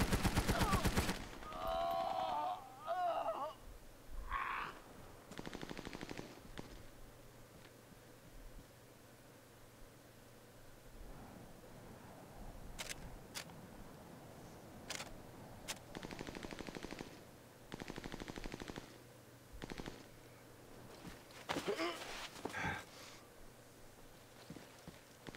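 Explosive .50 caliber rounds fire in Army of Two, opening with a loud burst, then repeated short volleys separated by quieter gaps.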